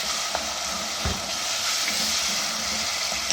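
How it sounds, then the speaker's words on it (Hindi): Potatoes and turnips sizzle steadily in a pan with spices, a continuous close frying hiss with a few soft stirring knocks and no voices. "इसको अब अच्छी तरह भून लेंगे।"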